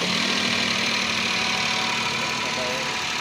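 A 2024 Toyota Wigo engine idles with heavy vibration, fitted with new spark plugs: a steady, loud, close mechanical hum with a low droning rumble throughout and no pauses.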